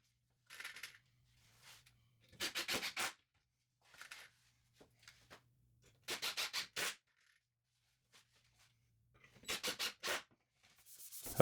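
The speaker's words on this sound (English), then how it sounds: "I got it hand sanded to 320 grit, so it would be nice and smooth before the finish." Sandpaper of 320 grit rubs by hand over a wooden bench top in clusters of quick, rhythmic scratchy strokes, each cluster followed by a quiet gap. The sound is close and fairly crisp.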